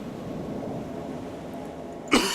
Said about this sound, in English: Please stop coughing.